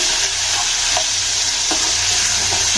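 Onions and tomatoes fry loudly in a pan for thanni chutney, a dense close sizzle with a few sharp scraping stirs of the spatula breaking through.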